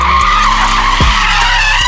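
Car drifting at Apple Valley Speedway, tires skidding in a loud, sustained squeal close by, with the engine note surging briefly partway through.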